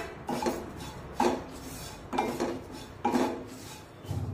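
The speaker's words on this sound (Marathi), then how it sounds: "फक्त 2 मिनिटे हे ओट्स आपण भाजून घेऊया" Oats dry roasting in a pan over a low flame, stirred in regular strokes: four rhythmic scraping sweeps of a utensil against the pan, close and fairly soft, with no sizzle.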